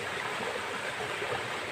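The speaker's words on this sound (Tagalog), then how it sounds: "dito tayo sa tabi ng ano ng sapa" A stream flows beside a rural well, its steady broadband rush of water continuous and fairly close, with no voices over it.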